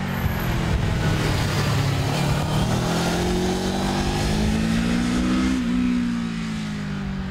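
Four-cylinder engine of a Honda Crossrunner motorcycle revs steadily under heavy wind roar, the pitch climbing gradually as it accelerates, loud and continuous throughout.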